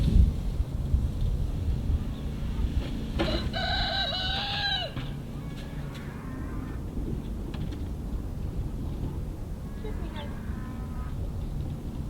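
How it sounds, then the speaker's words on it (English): Chickens in a farm coop cluck and squawk, one loud drawn-out call rising above steady rustling and wind noise, with a person talking nearby. "done feeding chickens"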